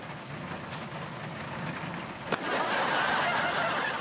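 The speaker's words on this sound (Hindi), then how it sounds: "अभी हो रही है बारिश" Steady rain during monsoon season, a continuous hiss that thickens and grows louder about halfway through, with a single sharp knock or tap just before it swells.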